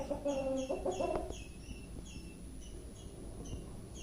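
A multicolored rooster clucks a few times up close, followed by chirping birds and faint background noise.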